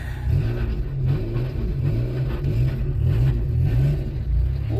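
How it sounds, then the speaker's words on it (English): A 1992 Dodge Stealth drives into a shop, its engine giving a low, steady close rumble with slight revving and faint surrounding clatter. "I'm actually pulling your car into the shop."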